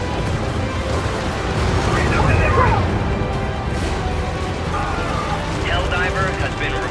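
Artillery strike in the Helldivers video game, a dense, loud, continuous rumble of explosions rolling on throughout with no clear pauses between blasts.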